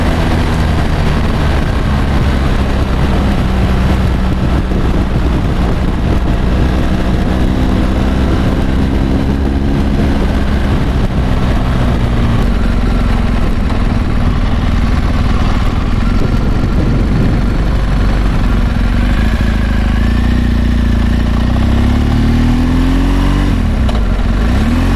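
BMW GS 1200 Adventure motorcycle engine on a test ride, a loud, continuous mid-pitched drone with rising and falling revs and steady road and wind rush throughout.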